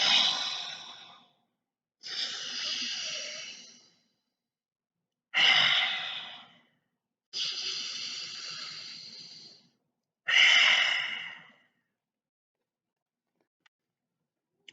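People imitating a dragon breathing fire: five long, breathy exhales, each about one to two seconds, evenly spaced with short silent pauses between them.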